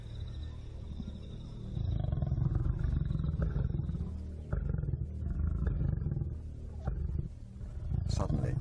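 Several lions roar beneath a tree where a young leopard has climbed out of reach on the African savanna, deep loud roars and growls rising in repeated bursts under narration.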